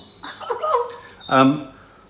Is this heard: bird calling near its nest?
yes